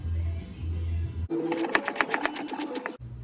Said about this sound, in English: I'm going to use a 17mm socket and loosen up this bolt